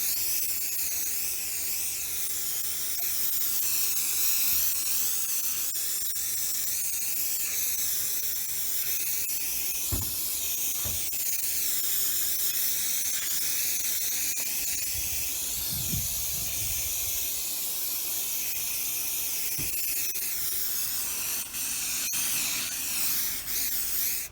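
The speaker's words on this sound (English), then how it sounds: "got our cheap hairspray from the dollar store" Cheap dollar-store hairspray hisses out in long continuous bursts onto model railway trees, a close, loud aerosol spray with small breaks and faint handling knocks between passes.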